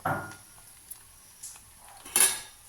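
Kanika Bhog rice seasoned with garam masala and cinnamon being stirred in a pot, heard as a few sharp metallic clinks and scrapes of a utensil against the vessel, close by and sparse, with quiet gaps between them.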